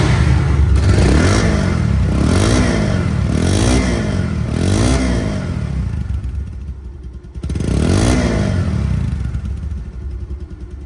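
A second-hand Bajaj Pulsar motorcycle engine revving loudly up close, several rhythmic throttle blips rising and falling, a brief cut-out, then the engine idling and revving again.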